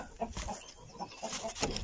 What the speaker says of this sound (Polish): a tu kury czekają.